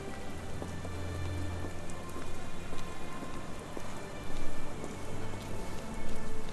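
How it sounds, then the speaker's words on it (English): Steady rainfall in the video game Sherlock Holmes The Awakened: dense, continuous patter of drops on surfaces, fairly loud and even throughout, with a faint low hum underneath. "Why are you reading in the rain?"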